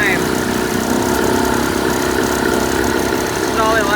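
A 1980 Chrysler Sea King 15 horsepower outboard motor runs continuously, a steady close mechanical drone and rattle that stays level throughout.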